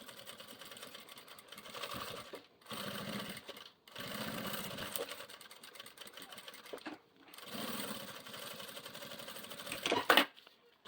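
Sewing machine stitching around the back mesh panel of a fabric toiletry bag, running in three long bursts of rapid, even stitching with short pauses between them, close and fairly loud.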